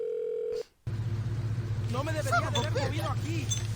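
A phone dial tone cuts off briefly, then a call connects in Saints Row while ringing and engine rumble continue beneath warbling tones, with voices talking over it.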